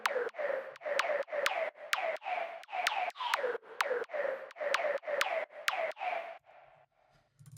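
A percussive tom drum lead in an EDM drop, played as a rapid rhythmic run of about thirteen pitched hits, each with a sharp attack and a falling pitch. The pattern stops abruptly and a faint tail trails off.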